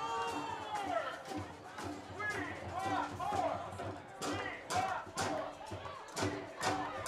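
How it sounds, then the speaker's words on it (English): Football crowd at a Stockade FC versus Elm City Express match chanting "We want more" in rhythmic surges, a dense roar of many voices rising and falling beneath a commentator's talk. "Crowd chanting, "We want more," as Elm City works it."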